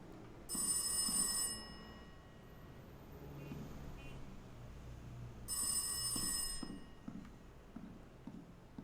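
In the psychological horror game Rise of Insanity, a telephone bell rings in two distinct bursts a few seconds apart, clear and fairly close over a low, quiet ambient rumble.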